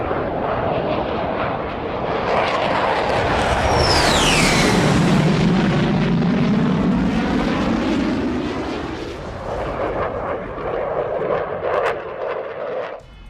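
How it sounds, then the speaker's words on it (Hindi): J-15 and J-35 military jets fly from the Fujian aircraft carrier in a loud, roaring pass that swells to a peak midway and then fades, with no talk. "फुजियान युद्धपोत में J-15 और J-35 की उड़ान"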